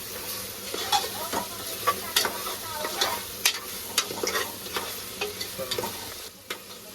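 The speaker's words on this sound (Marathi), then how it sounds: "आलं लसूणची पेस्ट घेऊन आपण परतून घेतले" Ginger garlic paste sautéing in a pan for mutton gravy, steady soft sizzle with repeated scraping strokes of a spoon stirring against the metal, close and moderately loud without talk.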